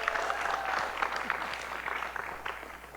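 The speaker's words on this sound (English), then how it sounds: "round of applause for our awesome panel" Audience applause for a panel at a virtual reality event, a steady, moderately distant spread of clapping with a few brief voices and whoops mixed in, tapering slightly at the end.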